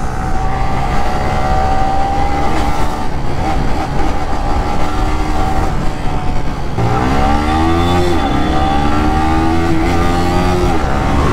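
KTM Duke motorcycles pass along a road during festival-season traffic, their engines a loud, continuous drone that swells with a rising, sweeping tone around the seventh second as one rider goes by close.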